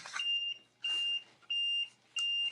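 Four identical electronic beeps from an auction countdown timer, steady and evenly spaced, each a short flat tone. They sound close and clear, with no voices over them.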